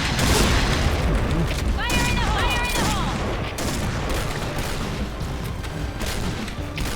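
Dense video-game sniper gunfire and explosive booms fill the clip loudly and continuously, with a voice talking over the shooting.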